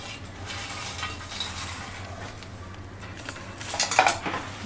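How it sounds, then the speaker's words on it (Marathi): Fried peanuts, corn flakes and coconut being tossed together for shev murmura chivda, with a steady rustle of dry pieces and light metallic clinks of a spoon on the vessel, louder toward the end, no talking. "आता आपल्याला हे शेंगदाणे, मक्याचं पोहे आणि खोबरं जे आपण तळून घेतलं होतं ते आपण टाकून आता मिक्स करणार आहोत"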